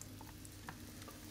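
Champignon mushrooms frying in olive oil in a pan, giving a steady close sizzle and crackle throughout with a few brief stirring clicks.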